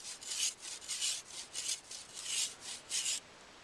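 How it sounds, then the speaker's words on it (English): A knife spine scrapes bark off a hazel stick in rapid, close rasping strokes, about eight bursts with short pauses between them. "To debark the hazel, either the back of the knife."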